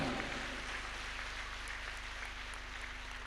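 Audience applause at a Hindu religious gathering, a steady dense wash of clapping holding at moderate level throughout with a faint low hum underneath.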